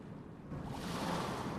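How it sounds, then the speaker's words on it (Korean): Ocean waves washing onto a sandy beach at night, a soft, steady broadband wash that swells slightly louder after the first half second and holds, with no voices. "파도 소리에 잠에서 깨어났다."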